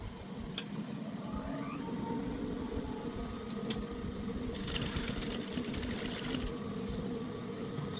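Sewing machine running steadily while stitching a kimono jacket's serged fabric layers, a continuous close mechanical whir with a faint brighter rattle partway through, heard alone without talk.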